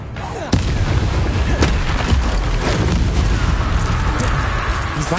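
A Bombarda blasting spell goes off in Hogwarts Legacy, a sudden loud explosive boom followed by a sustained roar of crackling debris and rumbling combat noise.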